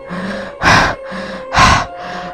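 A trembling person draws long, deep breaths, with two loud, breathy surges alternating with softer, shakier stretches, close and alone without speech.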